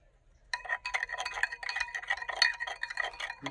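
A spoon clinks and scrapes against a glass as salt is stirred into water, a quick run of close, bright tinkling strokes after a short silence, with no talk.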